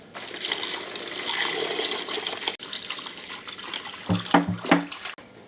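Steady rushing water pours continuously into a stock pot holding a turkey for several seconds, with a few sloshing, splashing bursts near the end.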